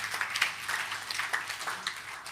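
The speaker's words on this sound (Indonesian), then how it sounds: "Kita tepuk tangan lagi Ibu dan Bapak." An audience in a talk setting claps for a few seconds, a loose patter of many hands of moderate loudness with no single clap standing out.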